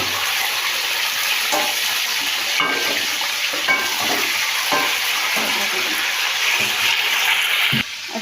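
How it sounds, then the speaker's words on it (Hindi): Beef pieces fry in ghee in a pot with a loud, continuous close sizzle, broken by the scrape and clatter of occasional stirring. "मैं इसमें डाल के फ्राई करती हूँ"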